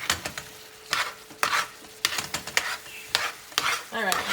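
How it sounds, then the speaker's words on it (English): Shrimp and tender vegetables sizzle in a frying pan while a utensil stirs them, giving repeated scraping strokes over a steady crackle, close and moderately loud with no talking. "Stirring, keep stirring."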